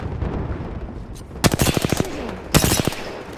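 Gunfire in the battle royale video game Apex Legends: two rapid automatic bursts of sharp shots, loud and close, separated by a short pause over low background game noise.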